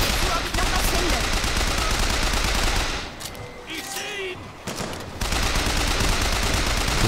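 Rifle gunfire in the video game BioShock Infinite, heavy and continuous, briefly dropping away in the middle before the loud volley resumes, with a voice heard during the lull.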